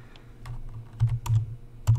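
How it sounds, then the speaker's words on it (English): Keys on a computer keyboard clatter in a short burst of quick, uneven taps, close and fairly loud, with no talking over them. "I can just type in the desired higher resolution."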